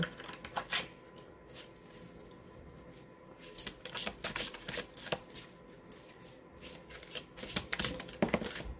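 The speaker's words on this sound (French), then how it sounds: "Alors, on va tirer une dernière carte." Cards from a shuffled tarot deck are handled and drawn during a love reading, giving soft papery riffles and flicks in irregular bursts, close and fairly quiet, with no talking.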